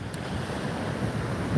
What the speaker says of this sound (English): This ocean is really calm compared to what we saw yesterday.